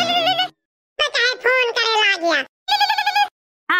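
A phone rings indoors at home with a melodic, tonal ringtone that plays in short repeated bursts separated by brief gaps, fairly loud and close.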